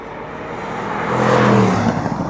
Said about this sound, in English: 656 horsepower version of the Mercedes 4-liter twin-turbo V8, an 8-speed gearbox